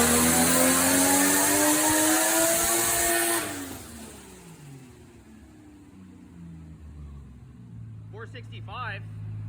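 A 1JZ-powered Toyota Supra Mk3 at 18 psi of boost revs hard on a dyno, loud and sustained for about three seconds before the engine note drops away and winds down, with speech and some whistling toward the end.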